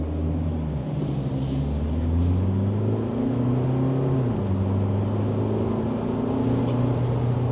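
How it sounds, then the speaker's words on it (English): A Kia Tasman X-Line 2.2 diesel ute with automatic 4-wheel drive, in sport mode, pulls hard: engine pitch climbs steadily, dips at one gear change, then climbs again, loud and continuous from the cabin, with no voices. "so that we can do a little bit of acceleration to see how this vehicle goes around here"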